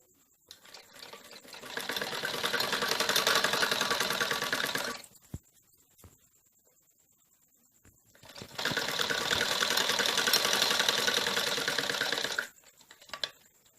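Electric sewing machine stitching piping onto a kurti, running in two long steady bursts of rapid mechanical chatter with a quiet pause between, close and fairly loud with no voices.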